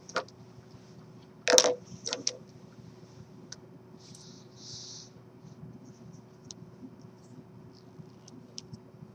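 Pen or pencil writing by hand on paper while working a math problem: a few sharp scratchy strokes and taps early on, then light intermittent scribbling over a steady low hum, with no talk.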